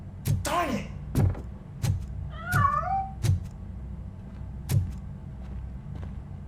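A cat in the video game RoboCop: Rogue City meows twice in rising, wavering cries among a series of sharp knocks and thuds over a low room hum, with no talk.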